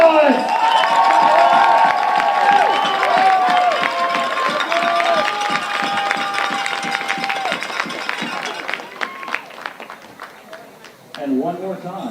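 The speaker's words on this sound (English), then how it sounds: "Let's hear a big, loud round of applause" Football fans at a youth provincial championship game cheer and clap after the match, a loud crowd roar with shouts and whistles that thins into scattered applause, while an announcer talks over it.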